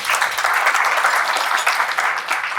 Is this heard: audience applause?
yes